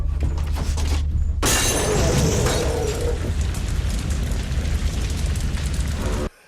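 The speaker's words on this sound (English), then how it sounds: "one of them lobs a Molotov at the wall of the cabin and sets the cabin on fire" A Molotov cocktail shatters against the wall of a cabin in the horror film Dead Snow: a sudden loud burst of breaking glass and whooshing flame, followed by a sustained roaring crackle of fire that cuts off abruptly.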